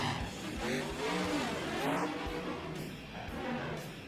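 A monster truck engine in the BeamNG.drive video game revs loudly and steadily, the continuous roar shifting in pitch as the truck accelerates, with tire noise mixed in and no voices.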